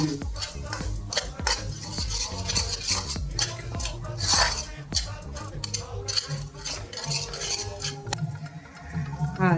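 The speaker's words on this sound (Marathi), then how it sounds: "आणि आता हे छान परतून घ्यायचंय तेल सुटस्तोवर." Masala with Kashmiri and Byadgi chilli powder sautéed in oil for a matar paneer dish, heard as busy, close spoon scraping and clinks against the pan over a light sizzle, continuous and fairly loud.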